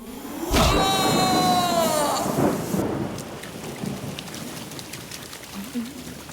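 Steady rain hiss with a loud rumbling burst of thunder near the start, then continuing rainfall with faint voices murmuring underneath.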